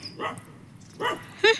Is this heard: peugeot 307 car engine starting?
no